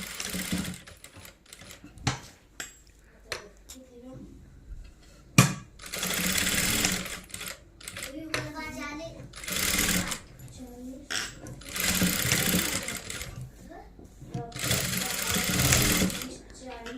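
A sewing machine stitches a blouse lining in several short bursts separated by pauses, with clicks and handling noises between runs. A person talks intermittently.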